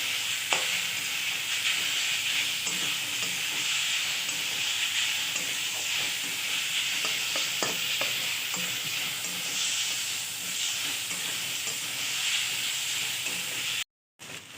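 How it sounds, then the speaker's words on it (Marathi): Raw mango pieces fry in ghee with spices, making a continuous close sizzle and hiss with occasional stirring scrapes, which cuts off abruptly near the end. "लगेच आपण हात असलेला कैरी टाकून घेणार आहोत ना ह्याला दोन ते तीन मिनटं आपण फ्राय करून घेणार आहोत"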